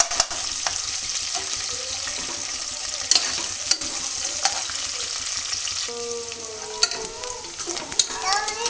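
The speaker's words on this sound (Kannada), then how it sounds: "ಸ್ವಲ್ಪ ಎಣ್ಣೆಯಲ್ಲಿ ಫ್ರೈ ಆಗ್ತಾ ಇದೆ." Onions frying in a little oil for vegetable pulao, a steady close sizzle with occasional stirring scrapes and spatula knocks throughout, no voices.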